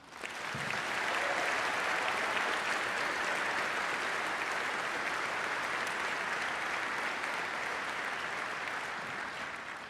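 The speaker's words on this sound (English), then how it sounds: "how about another round of applause for these students?" Sustained, dense applause from a large audience at a junior all-state band concert, steady and loud for the full length before tapering slightly at the end.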